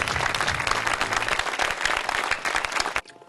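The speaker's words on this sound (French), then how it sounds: "nous pouvons les applaudir, les troubadours" An audience applauds a troupe of troubadours at a live performance with a brief, dense burst of clapping that cuts off near the end.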